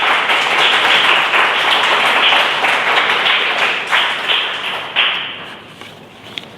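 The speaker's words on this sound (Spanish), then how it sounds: "Denle un fuerte aplauso al Señor" A church congregation claps loudly and steadily during a Sunday service, a dense close wash of hands that gradually thins and fades toward the end with a few scattered claps.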